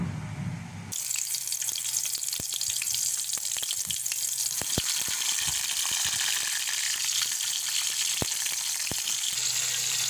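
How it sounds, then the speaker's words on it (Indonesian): Tomatoes fry in a pan as the first step of making sambal, giving a steady, close hiss and sizzle with scattered sharp crackles throughout and no talking. "Langkah yang pertama kita goreng tomat ya."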